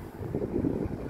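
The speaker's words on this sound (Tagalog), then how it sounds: "Mahangin." Low, rumbling wind buffets the microphone in a steady roar with no voices.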